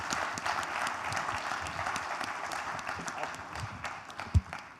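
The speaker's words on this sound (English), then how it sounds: "Give him a round of applause." Audience at a startup conference breaks into sustained applause, steady dense clapping throughout with a louder clap near the end.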